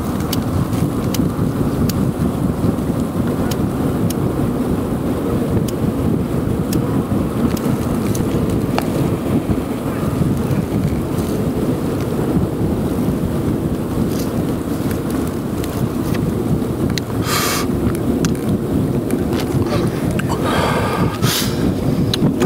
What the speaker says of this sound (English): Uh-oh, that wind's kicking.